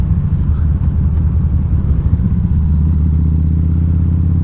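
2012 Harley-Davidson V-Rod Muscle engine running at around 2,000 RPM on a commute ride, a steady, close, loud low rumble with pulsing throb and no talk over it.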